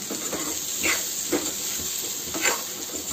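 Masala-stuffed okra (bharva bhindi) stirred in a pan over steady hissing sizzle, with a few soft scraping strokes of the spoon rising above the frying noise.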